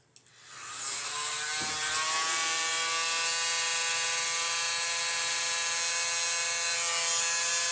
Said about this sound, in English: I do believe I need to use my mini blower